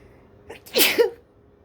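A single sharp sneeze up close, a quick inhale followed by a burst of breathy noise.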